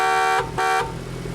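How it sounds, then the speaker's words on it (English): The horn of a BAC Mono street-legal race car sounds two short, close, loud toots with a brief gap between them, followed by the car's quiet background hum. "in case you want to know what the horn sounds like in a BAC Mono"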